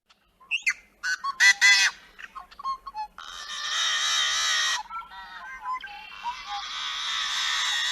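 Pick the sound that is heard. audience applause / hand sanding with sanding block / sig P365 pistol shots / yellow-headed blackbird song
yellow-headed blackbird song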